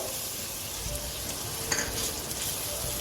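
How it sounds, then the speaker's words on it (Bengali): Ground turmeric, red chilli, coriander and cumin frying in a pan for keema chana with a little water splashed in, giving a dense, even close sizzle with a brief hissing burst partway through. "এর মধ্যে অল্প একটু জল দিয়ে দেব।"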